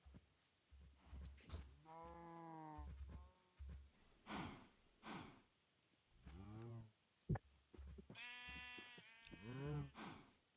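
Sheep in a video game bleat in several wavering, drawn-out calls with short gaps, mixed with soft clicks and thumps.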